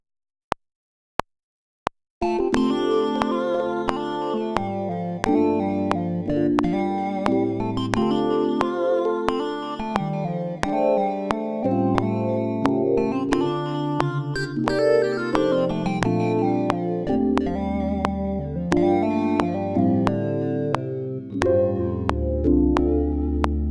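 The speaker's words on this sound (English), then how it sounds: "Now my second sound comes from the Logic stock retro synth plugin, and it sounds a bit like this" A melody played on Logic Pro X's stock Retro Synth plugin, a bright synth line with sustained chords and a low bass part, entering after a few sharp clicks and continuing steadily with no voices.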